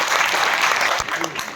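Loud, dense applause from an audience at a Hindi poetry gathering (kavi sammelan) in Delhi, a steady wash of clapping that continues through the whole short stretch and tapers slightly near the end.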